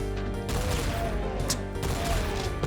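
Chaingunner enemies in the video game Doom (TNT: Evilution) fire rapid automatic bursts, a dense rattling volley that stays loud and continuous over a steady game soundtrack.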